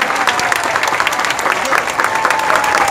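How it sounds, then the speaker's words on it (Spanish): A congregation gives a strong welcome applause for the bishop in Buenaventura, a dense, lively clapping of many hands that continues steadily throughout, near and loud. "Un fuerte aplauso de bienvenida."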